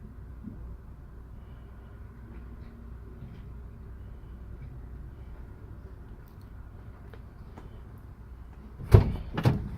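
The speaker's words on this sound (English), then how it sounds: "And I shut my door before I chalk the wheel." A truck door is shut during a CDL air brake test. It lands as a sharp thud near the end, with a second, softer knock after it, over a long stretch of low, steady rumble.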